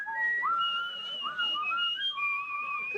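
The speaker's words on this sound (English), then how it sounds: "Whistle. Whistle." A person whistles a short, wavering tune of sliding high notes, clear and close with no other sounds.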